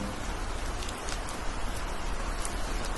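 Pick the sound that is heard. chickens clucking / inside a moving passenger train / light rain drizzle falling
light rain drizzle falling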